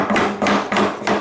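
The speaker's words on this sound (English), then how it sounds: "we've got to keep the chisel working flat across the surface as we go through" A chisel driven into wood while cutting a T halving joint gives four sharp, evenly spaced knocks, close and loud, with no talk.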